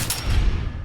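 A single gunshot fires in Fallout 4, a sharp crack that decays into a rumbling echo, loud and close, with no other sound around it.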